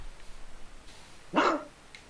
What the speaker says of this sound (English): Did you just bark, or did a dog bark?